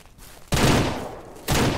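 Two loud, close gunshots ring out while a hunter shoots at bucks in the Ranch Simulator video game, one at the half-second mark and another a second later, each followed by a decaying echo.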